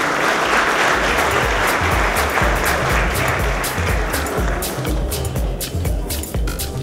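Audience at a technical talk on Zabbix and software test automation gives a sustained round of applause, loud and close with dense rhythmic clapping throughout, no talking.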